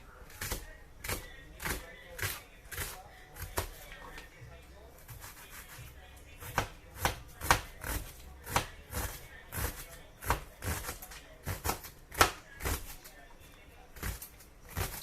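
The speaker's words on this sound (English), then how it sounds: "I'm going to be cutting our onions" A knife chops onions on a cutting board in steady repeated thuds, several dozen sharp close knocks in an uneven rhythm, with a voice talking quietly underneath.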